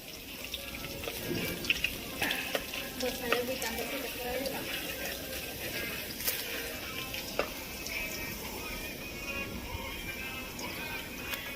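Garlic dropped into hot oil for tempering in a village kitchen, cooking for a chicken meal, gives a steady close sizzle and crackle running throughout, with scattered sharp pops and someone talking over it.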